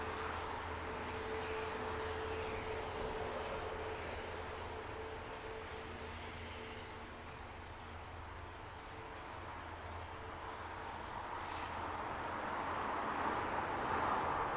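An airliner at Heathrow Airport on a long takeoff run at the far end of the airfield gives a steady distant jet roar that fades slightly and then swells again, with no talking.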